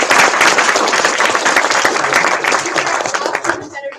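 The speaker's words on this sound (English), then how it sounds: "Give a big round of applause to both of our" Loud, dense audience applause for two quiz competitors, continuous throughout with voices faintly mixed in, easing slightly at the very end.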